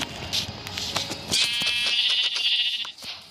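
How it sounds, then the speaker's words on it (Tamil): Sheep bleating in the Minecraft video game, a few short synthetic bleats over game background sounds, close and clear, with no talking. "ஓகே, ஒரு ஆடு கிடைக்கிது."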